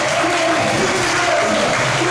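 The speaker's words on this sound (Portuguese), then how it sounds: "Começa a aplaudir o Senhor" Dense, continuous clapping from a church congregation applauding during worship, loud and close, forming an even wash of sound with no voices standing out.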